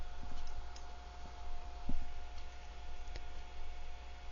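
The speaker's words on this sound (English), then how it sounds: "I'm going to right mouse click and select Export" A few faint, sharp computer mouse clicks sound at irregular moments over a low steady hum, during work in Mastercam X.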